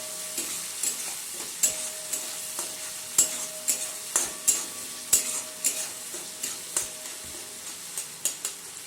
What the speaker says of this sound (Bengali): লবণ দিয়ে খুব ভালোভাবে মিশিয়ে দিচ্ছি।